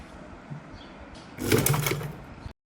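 A sewing machine stitches the open section of loose palazzo fabric, a steady motor whir running for about a second near the end after a quiet stretch, with no talking.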